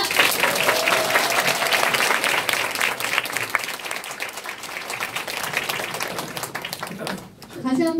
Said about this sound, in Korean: 다시 한번 열정적인 강의 주신 차지혜 사장님께 큰 박수 부탁드립니다.